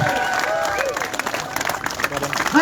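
Crowd applause and scattered cheers at an outdoor demonstration, moderately loud clapping from a gathered group, mixed with people talking and shouting over it.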